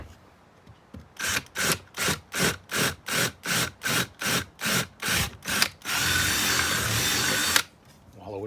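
A power drill bores out and widens a hole in a homemade PVC fishing rod holder: about a dozen short, evenly spaced whirring bursts, then one longer steady grinding run, close and loud, with no talking over it.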